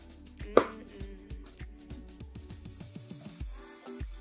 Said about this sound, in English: Now I just slice a little bit of lime